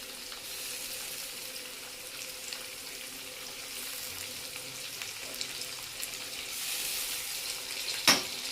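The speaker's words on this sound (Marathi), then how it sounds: "आपण याच्यामध्ये चांगलं परतून घेऊया." Tomatoes with fried onion and ground masala sizzle in a pan for a cluster bean curry, a steady close frying hiss throughout with a brief clink near the end.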